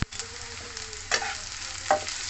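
Chopped beans and carrots sizzle softly in a pan as a spatula scrapes and stirs, giving two clear scraping strokes over a low, continuous frying hiss, with no talking.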